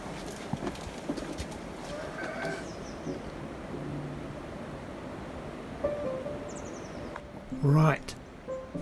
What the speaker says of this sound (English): Two men are setting off on a journey on a donkey.